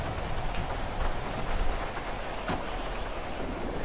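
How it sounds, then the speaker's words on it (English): Heavy rain pouring down steadily in the video game GTA 5 during an offroad trip, a dense continuous wash of drops with no voices, fairly loud and close throughout. "it's still pouring down rain"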